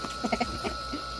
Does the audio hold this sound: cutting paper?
no